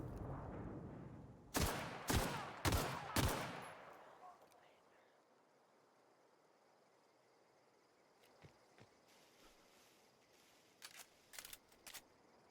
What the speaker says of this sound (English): You just heard gunshots